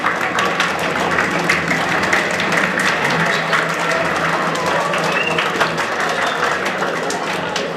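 Students and parents rise for a standing ovation at an anti-drug awareness event, sustained dense applause filling the hall continuously at full volume, with crowd murmur mixed in.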